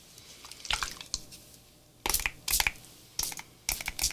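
A misbehaving spray bottle sputters over a cigar box in a run of short, irregular hissing bursts with quiet gaps between them, close and fairly crisp, with no talking.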